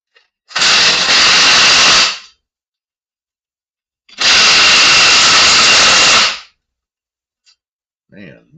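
A pneumatic impact wrench fires two loud, close bursts of about two seconds each in a workshop, separated by a short silence, followed by a faint brief voice at the end.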